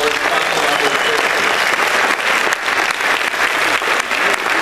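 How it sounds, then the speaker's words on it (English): Sustained, dense applause from a town hall audience on homelessness, many hands clapping steadily and loudly for the panel of speakers, filling the whole stretch without a break. "I want everyone to give a round of applause to this panel"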